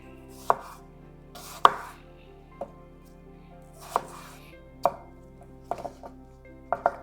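Knife chopping an apple into small pieces on a board for a chicken salad with vegetables, about eight crisp separate knocks at an irregular pace, close and fairly loud.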